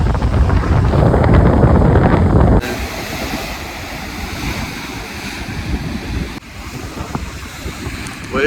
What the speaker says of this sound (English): Waves are looking crazy over here.